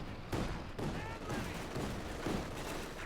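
Armored car cannon and rifle squad gunfire in a Company of Heroes 2 battle, with repeated bursts of shots and impacts over a busy battlefield backdrop.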